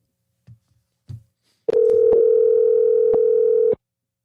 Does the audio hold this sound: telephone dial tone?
yes